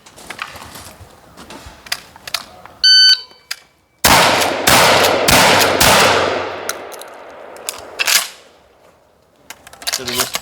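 A Remington TAC-14 shotgun with a hardwood finish fires several loud, sharp blasts with ringing decay, mixed with metallic handling clicks and reloading noises; a person speaks briefly.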